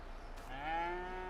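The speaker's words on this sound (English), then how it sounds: "How many cows do we have for now? Hello, cows." Cattle in Farming Simulator 22 give a single drawn-out moo that swells and holds, loud and close with no talk over it.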